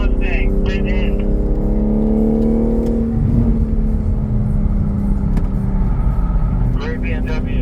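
A BMW M3 Competition drives on a race track with a loud, sustained engine drone whose pitch rises and shifts as it pulls away, while people talk over it.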